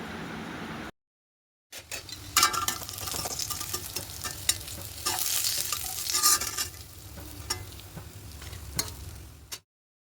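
Dhoka lentil cakes fry in mustard oil in a wok, giving a steady close sizzle broken by light spatula scrapes and ticks, after a brief silent gap at the start.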